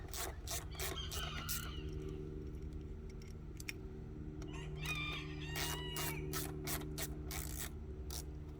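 A rooster crows repeatedly over a steady mechanical hum and scattered clicking, fairly close and clear.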